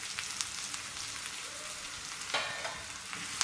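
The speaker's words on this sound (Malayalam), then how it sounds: "ഇതെല്ലാം കൂടി നന്നായിട്ടൊന്ന് ഇളക്കി കൊടുക്കാം. ഇനി ഉള്ളി നന്നായിട്ട് തന്നെ ഒന്ന് ഫ്രൈ ആയിട്ട് വരട്ടെ." Small onions and curry leaves frying in hot oil for a chicken curry, a steady soft sizzle with a few brief scraping stirs, moderately close and alone.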